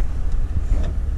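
A 12-year-old pickup truck with about 80,000 miles idles nearby in a low, steady rumble with slight throbbing pulses, no voices present.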